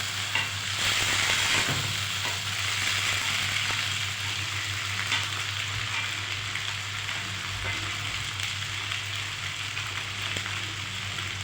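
Shelled green fava beans fry in hot oil, making a loud, steady, dense sizzle that continues unbroken, with faint stirring underneath and no talking.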